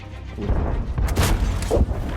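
A tank cannon fires in World of Tanks: a couple of muffled, heavy booms thump through a dense, rumbling background.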